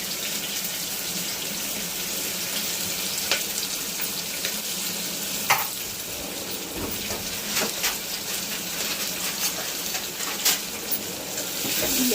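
Onion and green chilli sauté in a pan for a hotel-style kuruma, a continuous loud watery sizzle with scattered stirring clicks and spatula scrapes close by.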